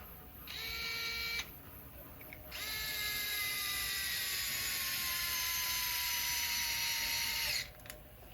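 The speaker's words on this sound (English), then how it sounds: "Put the screw in to the leading hole first, or the innermost one." Power driver whirring as it drives a screw into a work bed for a CEN Racing F450 RC truck, two bursts with a short pause, the second longer with pitch slowly dropping as it seats.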